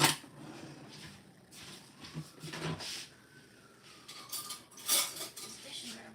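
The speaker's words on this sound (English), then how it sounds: "These dishes are about done." Dishes and cutlery are being washed, with scattered quiet clinks and clatters of metal and crockery rising and falling in bursts, fairly close but low in level.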